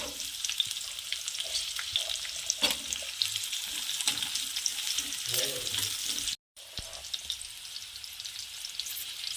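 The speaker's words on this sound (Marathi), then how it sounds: "तीन ते चार सेकंद पकू द्यायचं आहे याला कांदा ॲड करत आहे" Onion frying in oil and being stirred in a pan while a vegetable Manchurian is cooked: a steady, close crackling sizzle runs throughout with occasional scrapes, broken by a brief silent gap, and no voices.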